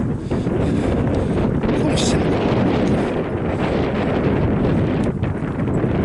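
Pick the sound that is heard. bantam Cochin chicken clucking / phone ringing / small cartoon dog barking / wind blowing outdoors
wind blowing outdoors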